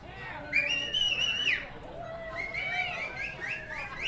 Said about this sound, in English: Can anybody do any whistling?